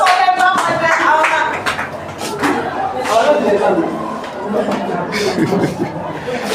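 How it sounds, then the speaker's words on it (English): Students clap for classmates during a mathematics lesson on the algebra of real numbers, scattered handclaps mixed with chatter, chuckles and a teacher's voice in a lively classroom. "Clap for them."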